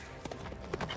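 Horse hooves clip-clop in The Witcher 3 video game. A few soft, quick hoofbeats come in about a second, faint against the game's background sound.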